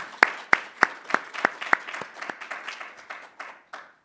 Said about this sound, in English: I'd like to just give a round of applause to all of our participants as they did a phenomenal job.